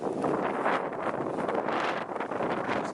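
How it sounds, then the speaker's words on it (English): Wind buffets the microphone on a hiking trail, a steady loud roar that surges and fades over a few seconds with no voice present. "Now the wind's going to pick up"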